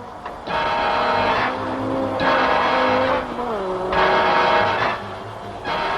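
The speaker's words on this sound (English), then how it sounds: "Timo Mäkinen is soon away, gobbling up motor cars" Racing cars lap Sandown during a six-hour touring car race, a loud, continuous engine roar with repeated rising and falling revs and gear changes as the cars pass close by, with no talk.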